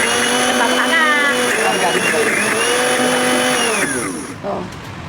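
A grand blender grinds chilies into paste, a steady loud motor whir with shifting pitch as the load changes, running most of the clip before cutting off near the end, with someone talking over it.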